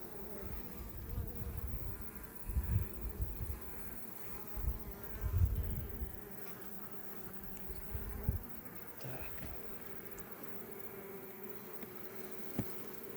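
Honey bees buzz close by in swelling bursts over a low steady hum of the hive while a frame is handled, with occasional faint handling noises.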